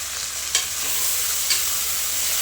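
Fresh pigeon peas fry with tomato in a pan for sambar, giving a steady close sizzle broken by two short scraping stirs.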